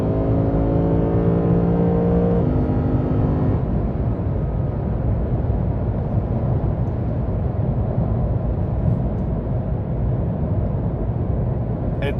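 A Lexus RC-F Fuji Speedway Edition engine runs inside the cabin on the road, with rising engine tones shifting down in steps as the paddle shifters downshift in the first few seconds, then a steady loud road and engine roar.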